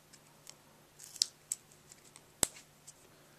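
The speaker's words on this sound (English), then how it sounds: "So you just go in on both sides and just trim it until the little piece comes off" Scissors trim the edges of an unmounted rubber stamp in a quiet room, a handful of small, sharp snips spaced irregularly with one crisp louder cut near the end.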